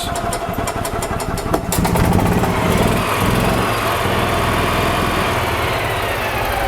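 A 2009 EZGO RXV gas golf cart engine runs and jumps into gear, a loud close buzzing drone with rapid pulses at first that settles into a steady rougher hum.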